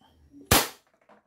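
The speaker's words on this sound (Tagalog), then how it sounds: "Pangalawang putok." A single sharp air gun shot fired through a chronograph during testing, loud and close, with a brief crack that tails off quickly, followed by faint sounds after.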